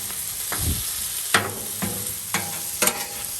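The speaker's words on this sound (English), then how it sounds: "Gonna let it sit there and cook. Chop it up a little bit." Taco meat sizzles on a Blackstone griddle under a steady hiss, punctuated by four or five sharp metallic chops and scrapes of a spatula at irregular intervals, close and clear with no talking.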